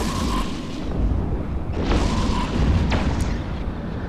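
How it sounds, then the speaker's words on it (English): In the space game EVE Echoes, torpedo missiles strike a Drake with deep, rumbling booms and a few sharper bursts layered over a constant low roar of ship noise. No one speaks. "time to unleash the missiles on the Drake"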